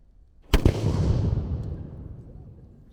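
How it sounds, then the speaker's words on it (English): A black powder swivel gun fires at an outdoor living-history event, one sharp loud boom followed by a long rumbling echo that fades away. "Easily ignite when he's ready to fire the swivel gun."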